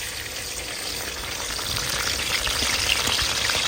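Chopped ingredients frying in hot oil at an outdoor garden cookout, a continuous dense sizzle that swells slightly louder toward the end, close and alone without speech.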